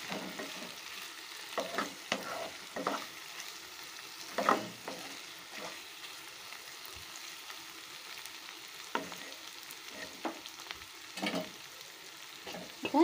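Brinjal curry with chana dal and curry leaves fries quietly in a pan, a soft continuous sizzle broken by many brief utensil scrapes and taps across the stretch, heard close with no voices.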